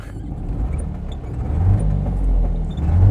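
The two-stroke engine of a 1974 Daihatsu Fellow Max kei car drones close and loud, a low buzzing rumble that swells slightly as it revs, with no talking.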